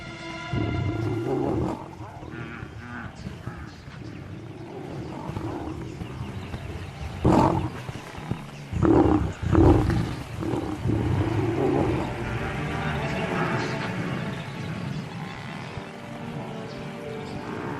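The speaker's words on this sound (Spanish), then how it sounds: "rugido de desesperación de una cría." Lion cub giving a desperate roar on the African savanna, a few loud bursts rising over a steady wild outdoor background and nature-documentary narration.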